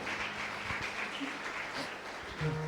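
A church congregation gives steady applause during a Spanish-language service, a continuous wash of clapping at even loudness, with murmured voices and a faint tone near the end.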